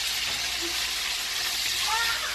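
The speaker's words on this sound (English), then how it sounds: "Turn up my chicken in the frying pan." Steady, loud sizzling and crackling of chicken frying in a pan, a continuous hiss with no pauses and no talking.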